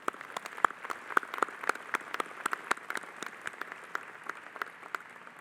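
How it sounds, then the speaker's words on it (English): Scattered applause from an audience at a university presidential inauguration, moderately distant, with uneven individual claps rather than a dense roar, lasting several seconds. "Let's give them an applause."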